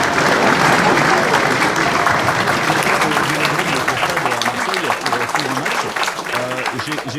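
A studio audience applauding loudly and continuously, dense clapping with cheering voices mixed in throughout.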